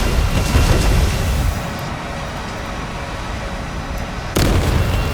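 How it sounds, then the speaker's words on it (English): Aircraft gun fire from a premium plane in the War Thunder video game, a dense continuous roaring burst that drops briefly in level mid-clip and surges loud again near the end. "listen to the burst on this thing"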